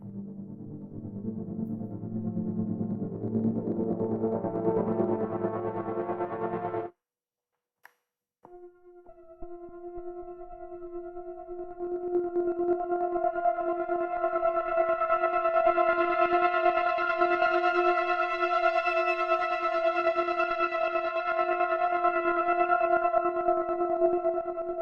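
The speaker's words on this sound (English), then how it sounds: "Let's do some of these effects ones, like some of these granules" Granular effect samples from the Mood Units AU suite on iOS, played without delay or reverb: a dense buzzing texture for several seconds, a brief gap, then two held tonal notes that swell and shimmer steadily for over ten seconds.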